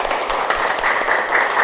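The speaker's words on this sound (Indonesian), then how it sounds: "Tepuk tangan semuanya." Students in a Pancasila civics classroom lesson clap together briefly: a short, dense burst of loud, close applause filling the room.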